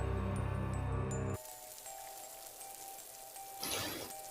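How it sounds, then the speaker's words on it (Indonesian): Heavy rain pours down at night over a village, a steady hiss of dense drops that swells briefly louder near the end, with no talk over it. "Malam itu, hujan turun tidak seperti biasanya."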